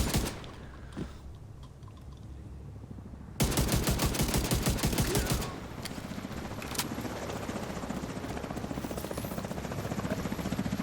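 Automatic rifle fire in a video game, a dense rapid burst of shots mid-clip over a constant whirring, helicopter-like background drone and scattered game effects, loud and close with no talk.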